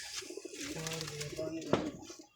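A pigeon from a fancier's flock of flying pigeons, perched after a flight, gives low, throaty cooing in a steady rolling run, close by, against a busy hiss of outdoor background noise and possible faint voices.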